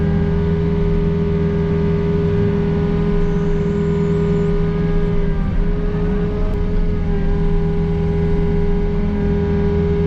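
A Peterbilt truck's engine drones steadily from inside the cab while driving, a loud, constant low hum with a fixed tone and no talking.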